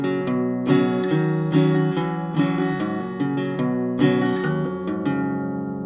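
Guitar in half-step-down tuning plays an intro riff, a fast run of sharp picked notes and short chord stabs in a busy, driving rhythm, close and clear with no talk.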